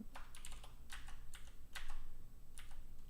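Someone types on a computer keyboard in a quiet room, with irregular bursts of crisp key clicks that are close and fairly soft, and no one speaks.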